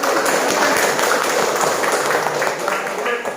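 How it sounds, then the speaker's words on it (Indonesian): Classroom of students applauding a classmate who just presented on magnets, a thick continuous patter of many hands with voices mixed in, steady throughout. "kita berikan tepuk tangan untuk kawan kita yang menampilkan"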